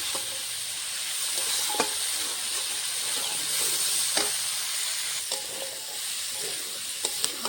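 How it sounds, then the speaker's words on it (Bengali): Potatoes, peas and carrots fry in a pan with a steady, close hiss and sizzle, broken now and then by sharp clicks of stirring. "আর কিছুক্ষণ সময় ভেজে নেব।"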